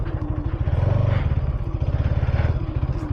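Motorbike ridden off-road along a trackless path, its engine a steady, close, loud pulsing chug that holds throughout with slight surges.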